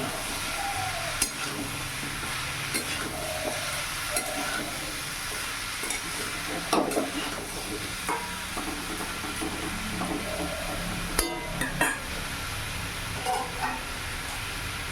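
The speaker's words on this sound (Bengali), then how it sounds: "এবার সব কিছু ভালো করে মিশিয়ে নেব।" Mixed vegetables stirred in a pan, a steady wash of sizzling with scattered spoon scrapes and clicks throughout, moderately loud and with no talking.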